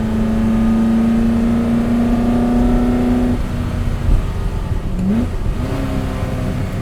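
A Superformance Ford GT40 MKII engine revs loudly and close, holding a steady high drone, then drops at a gear shift and climbs again in a quick rising blip, with no voice.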